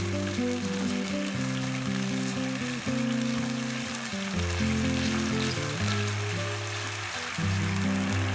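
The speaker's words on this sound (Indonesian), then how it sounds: "Kemudian kita masak hingga saus mendidih." Kung pao sauce bubbles and sizzles steadily in a hot pan, a continuous close crackling with a low hum underneath and no talking.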